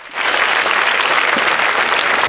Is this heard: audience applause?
yes